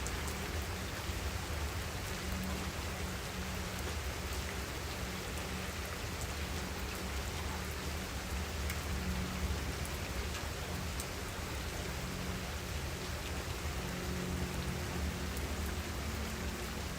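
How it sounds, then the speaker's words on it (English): Heavy evening rain pours down steadily with a dense, unbroken hiss of drops on surfaces, with no thunder. "Well, I don't really hear any thunder yet, but a lot of rain."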